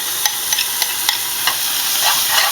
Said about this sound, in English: Then you're going to add the crushed tomatoes.